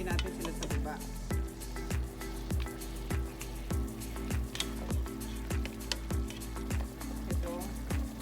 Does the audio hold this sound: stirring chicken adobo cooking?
yes